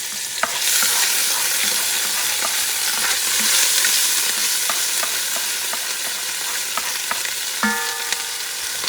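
Chicken and rice fry in a pot with a steady sizzle while a utensil stirs and scrapes, giving repeated soft clinks and scrapes close by and a small metallic clang near the end.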